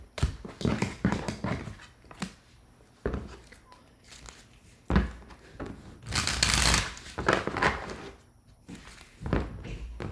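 Tarot cards shuffled by hand in bursts of riffling and flicking, with soft taps and thumps in between, fairly close and moderately loud, with occasional talk.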